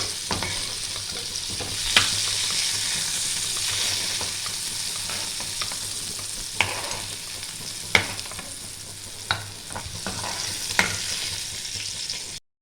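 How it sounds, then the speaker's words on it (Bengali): Vegetables fry in hot oil in a pan for a khichuri, a steady close sizzle throughout, broken by several sharp clicks of a spoon stirring against the pan. "আর একটু ভেজে নেবো আমি। সবজিগুলো ভাজা হয়ে গেছে"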